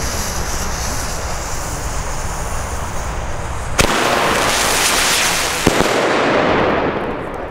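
A BKS 3 firework battery from Pyroland fires outdoors in a loud continuous barrage of crackling bursts, with two sharp louder reports standing out partway through.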